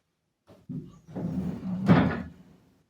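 Door opened to pass through, heard as a quiet click, then a creaking, scraping swing and a firmer thud near the end, close and alone.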